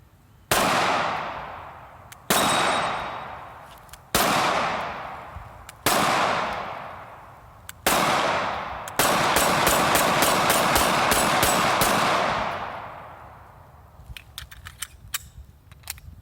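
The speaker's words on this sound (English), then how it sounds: "Let's do some more shooting with this guy." A Canik TP9SF Elite handgun fires five sharp, loud single shots spaced about two seconds apart, then a fast string of about a dozen rapid shots, followed by faint scattered clinks.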